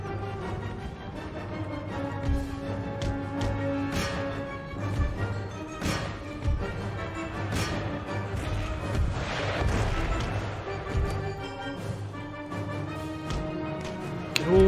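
Distant cannon fire from artillery in an Empire Total War battle with Ottoman forces: irregular booms spaced every second or two over a steady battlefield din, with a low drone running beneath, fairly quiet and without talk.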